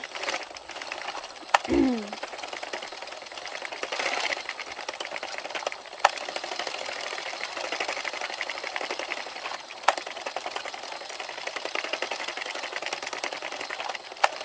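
An Addi circular knitting machine driven by a drill attachment runs with a steady, rapid mechanical whir and fine rhythmic clicking, close and continuous, with a brief squeak near the start.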